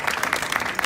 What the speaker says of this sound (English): round of applause for making that last bit happen with the matrix approach